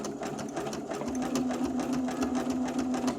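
Steady whirring hum of a sewing machine running a zigzag test stitch, close and continuous with a rapid needle rhythm over a sustained motor tone.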